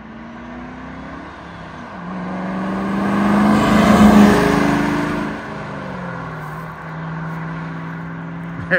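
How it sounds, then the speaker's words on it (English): A 1996 Ford Mustang SVT Cobra 5-speed rumbles through its mufflers, revving up to a loud peak, then easing off and settling into a steady drone as it shifts and cruises on. "I don't know what Ford put on mufflers on these, but they just have a great tone to them."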